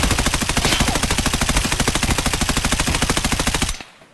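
Automatic gunfire in the Escape From Tarkov shooter: a loud, continuous burst of rapid, evenly spaced shots lasting almost four seconds, then cutting off abruptly into near silence.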